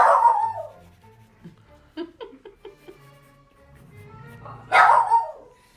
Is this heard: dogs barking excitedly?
yes